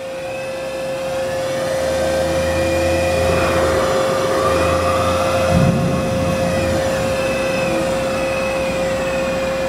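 A Ganesh CTL-618EVS precision lathe spinning at high RPM, a steady close mechanical whine with a strong sustained tone and faint rumble underneath, holding level throughout.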